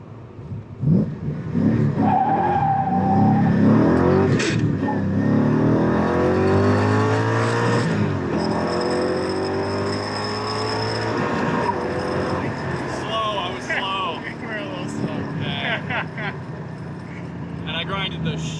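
LS-powered Nissan 240sx launching from a dig and power-shifting, a loud engine rising through rapid revs with a shift, then easing off, with people talking over it.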